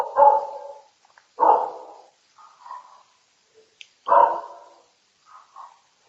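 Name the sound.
dog barking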